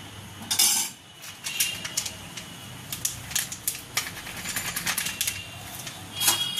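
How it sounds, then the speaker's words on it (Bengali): A spoon stirring milk with milk powder in a pan, a series of light metallic clinks and taps at an uneven rhythm, close and fairly quiet against a soft background hum. "মিল্ক পাউডারটা দিয়ে খুব ভালো করে নাড়াচাড়া করব।"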